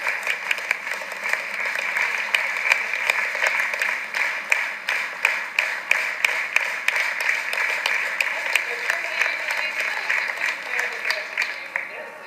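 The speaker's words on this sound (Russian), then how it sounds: "будете аплодисменты для вас" A roomful of listeners at a healthy-eating lecture applauds, many hands clapping in a dense, even patter that holds for about twelve seconds at moderate loudness.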